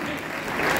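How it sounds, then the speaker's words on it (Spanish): Audience applause at a naval band concert in Talcahuano, Chile, a brief dense wash of clapping that grows slightly louder, no voices over it. "Más fuertes aplausos, por favor."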